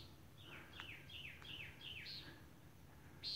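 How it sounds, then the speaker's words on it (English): Two small birds squabble near a bushcraft hut in the woods, giving a faint, distant series of sharp, descending chirps repeated in quick bursts over quiet background hiss. "There's a bird fight. One bird is attacking the other"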